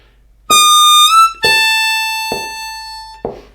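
Blues harmonica plays a lick, four bright sustained reedy notes with a bend between the first two, loud and close with no talking.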